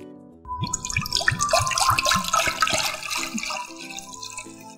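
Water pours into a pan on a stove set to low flame, a close, steady splashing and trickling stream with some gurgling, running for several seconds with no talk.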